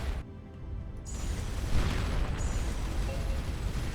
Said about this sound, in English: We'll go ahead and detonate all this